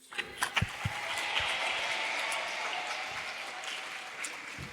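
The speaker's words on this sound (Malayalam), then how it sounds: "you will clap your hands and scream" An audience claps hands and screams in a lecture hall, starting with a few sharp claps that swell into steady, moderately distant applause with bright crowd noise that holds before tapering slightly.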